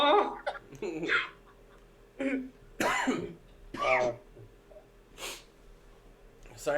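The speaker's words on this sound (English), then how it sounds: "Sorry for the intermittent coughing fits." Intermittent coughing fit from a man who may have a cold, sounding as several short harsh bursts spread through the clip, mixed in with nearby talk.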